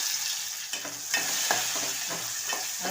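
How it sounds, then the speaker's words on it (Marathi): Onion sautéing in hot oil in a pan with garlic and curry leaves for a Konkani-style cowpea usal, a steady close sizzle with repeated stirring scrapes throughout, no voices. "चांगलं परतून घ्यायचं तर कांदाही लालसर झालेला आहे"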